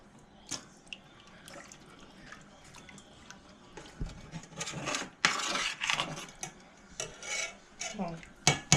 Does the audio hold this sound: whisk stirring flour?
yes